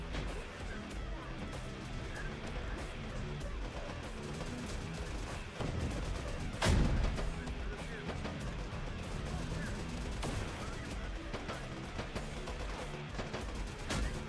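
Rocket fire and battle explosions in the video game Terminator Dark Fate Defiance, a dense, continuous barrage of gunfire, booms and crashes with one sharp strong blast midway, while a voice talks over it.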